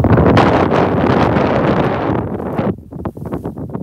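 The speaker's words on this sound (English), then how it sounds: "Ah, it's windy." Heavy wind on the North Dakota plains buffeting the microphone in loud, rumbling gusts that ease off into choppier bursts near the end.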